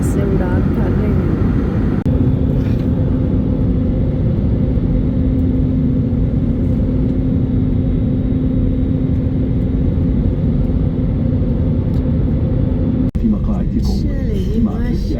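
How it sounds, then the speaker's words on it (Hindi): Steady, loud engine rumble fills an airliner cabin in flight, a constant low drone with a faint tonal hum, running unbroken for the whole stretch apart from a brief bump near the end. "जहाज़ के परों पे सफ़र करते हुए हम कैसे उड़ान भर रहे हैं।"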